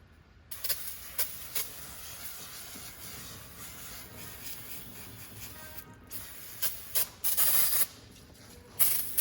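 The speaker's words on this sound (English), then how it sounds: "A big reason why you want to clean up with the brake clean and make sure everything is dry is if you have a leak" Aerosol brake cleaner sprayed onto the geared hub of a HMMWV, a series of short hissing bursts of varying length, close and fairly loud, with brief pauses between sprays.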